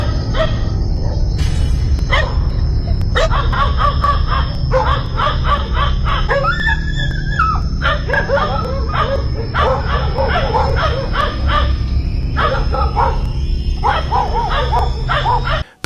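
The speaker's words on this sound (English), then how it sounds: "The video starts with two dogs in the field, barking furiously at seemingly nothing." Two dogs in a rural field bark furiously in rapid repeated bursts, loud and close, over a constant low background rumble.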